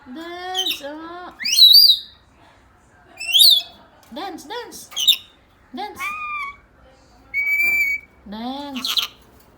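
A pet parrot squawks and gives loud, close whistles, rising and falling, in separate bursts with short pauses between them, while a person speaks between the calls.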